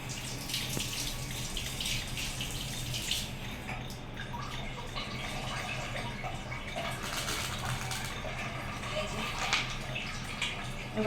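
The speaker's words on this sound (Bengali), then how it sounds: "আমি এটাকে হালকা ধুয়ে হালকা একটু জল দিয়ে দেবো, বেশি না।" Water poured into a bowl to rinse off turmeric spice mix while cooking fish, a continuous splashing trickle with small drips, close by and steady, with a person talking quietly over it.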